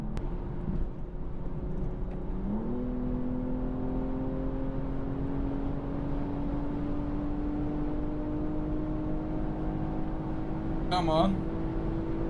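A BMW M240i xDrive G42 coupe accelerates on the autobahn into a headwind, its engine note climbing steadily and loudly before stuttering against the rev limiter near the end, with a short spoken remark early on.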